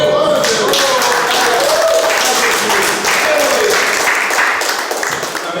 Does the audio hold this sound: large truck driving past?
no